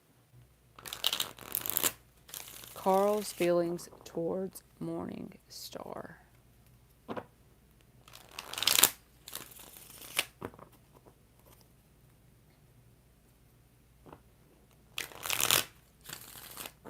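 Tarot cards shuffled by hand in repeated short bursts of riffling and slapping, loud and close, broken up by a person talking between the shuffles.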